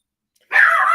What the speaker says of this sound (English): Oh, apologies. That's my dog.